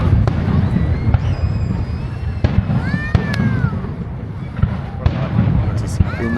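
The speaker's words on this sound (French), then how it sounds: "C'est long et c'est que des gros feux d'artifice." A large fireworks display at Niagara Falls, repeated booms and crackles at a steady pace from a distance, with whistling rockets and a crowd murmuring and people talking throughout.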